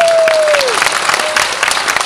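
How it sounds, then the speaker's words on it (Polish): An audience at a closed film screening applauds warmly and continuously, a loud, dense clatter of many hands throughout the short stretch. "Gorące brawa, bardzo proszę."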